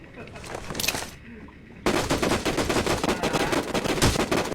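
Automatic gunfire in the mobile battle-royale game Rules of Survival: after a brief burst, a dense, continuous stream of rapid shots rattles loudly for several seconds, with a voice talking lightly underneath.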